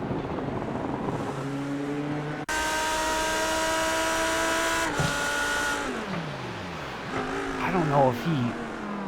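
A race car engine in a racing video game set at Indianapolis revs freely in neutral, its whining pitch climbing steeply and then sliding down in repeated sweeps, while someone talks over it.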